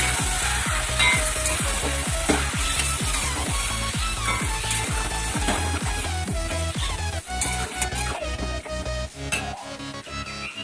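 Chicken pieces fry and sizzle in a pan with fried onions for a Bengali chicken biryani, a loud continuous crackle with regular stirring scrapes and occasional clinks of utensils.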